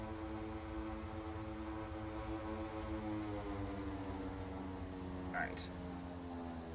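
OV-10 Bronco twin turboprops held at high power while taxiing fully loaded in Microsoft Flight Simulator, a steady droning hum with layered tonal whine, constant and fairly faint, with a brief spoken word over it.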